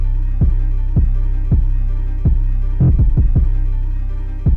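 Deep 808 bass hits tuned to C5 play in FL Studio, loud booming thumps in an uneven pattern, with a quick cluster of rapid hits near the middle and each note decaying with a sustained low hum.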